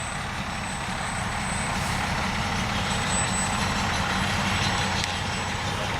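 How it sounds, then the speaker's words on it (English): A fire truck rolls past at the tail of a Memorial Day parade, its heavy diesel engine rumbling steadily with a brief hiss like an air brake, a continuous close drone without talk. "I believe that's the last of our fire trucks for this parade."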